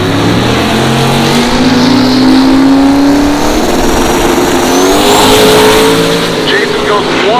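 A 2000 HP turbocharged Nova drag car roars loudly through a quarter-mile run, engine pitch climbing through gear changes, with an announcer talking over it.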